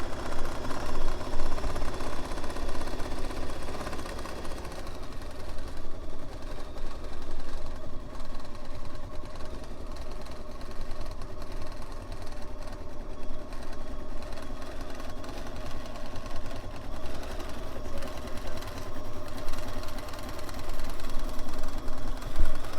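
A sewing machine stitches a Celtic quilt in a continuous, steady whirring hum with faint mechanical knocking, running unbroken at an even level.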